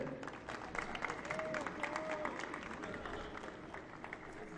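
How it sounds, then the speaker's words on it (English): Crowd applause for an award winner at the MLS NEXT Cup Finals youth soccer ceremony, a steady wash of clapping that holds throughout with a faint tonal whistle-like sound partway through. "One more round of applause for Mateo."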